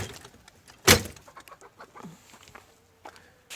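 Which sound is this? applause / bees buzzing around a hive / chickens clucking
chickens clucking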